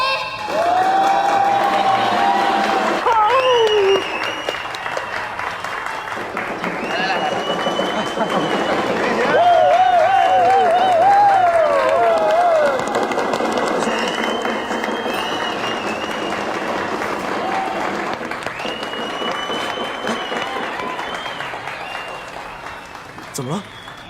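An audience applauds and cheers at a televised stage gala as a famous singer guest is welcomed, the clapping sustained and fairly loud throughout, mixed with music and voices.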